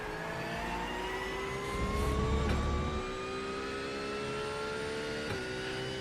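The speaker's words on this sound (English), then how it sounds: "And the Porsche doesn't really sound that great, does it?" A Porsche race car engine in the iRacing sim game holds a steady, moderately quiet drone with rising harmonic pitch, briefly swelling mid-way before settling, with faint shift blips.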